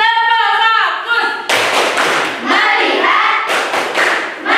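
A classroom does a rhythmic patterned clap chant, bursts of loud group clapping in short sets alternating with children's voices chanting in unison between them.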